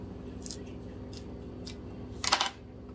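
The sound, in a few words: small scissors trimming African violet cuttings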